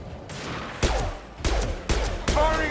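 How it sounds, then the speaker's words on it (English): Gunfire in the Mass Effect 2 video game: a burst of shots followed by several sharp, loud blasts at roughly half-second intervals, ending in a ringing impact shot effect, with faint game voices underneath. "Firing an impact shot."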